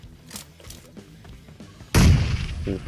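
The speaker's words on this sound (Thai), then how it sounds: "ปาระเบิดเข้าไปแล้ว" A few light pops and clicks, then a grenade explosion in PUBG Mobile booms loudly and rumbles briefly before fading.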